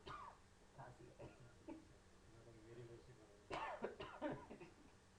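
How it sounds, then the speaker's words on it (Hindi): A few coughs and throat-clearing sounds mixed with soft speech, followed by a louder burst of coughing near the end. "खांसी है"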